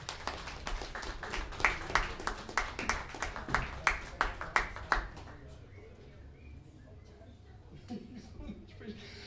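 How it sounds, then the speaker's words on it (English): An audience at Reggie's comedy club claps in a loose burst of distinct hand claps for about five seconds before it fades, leaving a quieter room with some talk. "if you would please from the audience, a nice round of applause once again for having come up here this evening"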